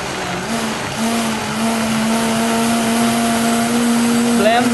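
A blender whirs steadily at high speed, one continuous loud motorized drone with a slight rise in pitch toward the end.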